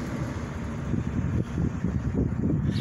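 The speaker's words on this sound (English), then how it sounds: "they got a lot of wind here, so I'm trying to control the wind noise" Gusty wind buffets an outdoor microphone, a steady low rumble with swelling and dipping surges throughout, nothing else clearly audible.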